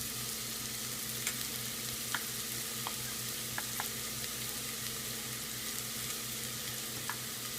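Ginger garlic paste fries in a pan of sautéed onions for mutton gravy, giving a low continuous sizzle with scattered light spoon taps and scrapes, nearby, no talking.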